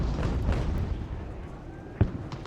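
Distant booms and battlefield gunfire from artillery and infantry in the strategy game Ultimate General: Revolution at the Battle of Trois-Rivieres, a steady low rumble with a sharper thump near the end, faint and mixed under other battle noise.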